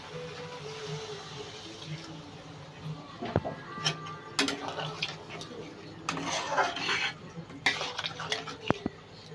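Okra curry being stirred in a pan with a utensil, producing intermittent scraping and clinking of metal against the pan, with occasional louder clatters and faint background noise, close and moderately loud.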